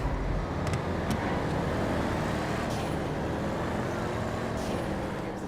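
Cars and a truck drag racing in the GTA 5 video game give a loud, steady engine roar that holds without a break, with no talk over it.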